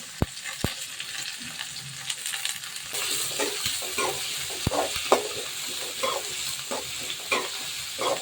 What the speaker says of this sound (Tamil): வெங்காயம் ஒரு 2 நிமிஷம் நல்லா வதங்கட்டும்